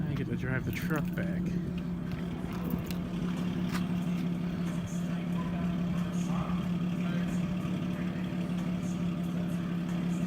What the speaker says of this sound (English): Now you get to drive the truck back.